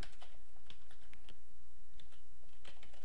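Code is typed on a computer keyboard for a Visual Basic program, a fast, continuous patter of close key clicks with no voice over it.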